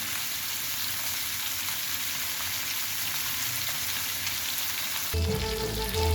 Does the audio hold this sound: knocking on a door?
no